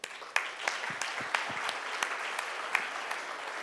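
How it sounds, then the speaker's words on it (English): A crowd at a Mumbai sports awards ceremony claps for honoured athletes: steady, dense applause with a few sharper claps standing out, continuing throughout at moderate loudness. "And each one of you all get a big round of applause"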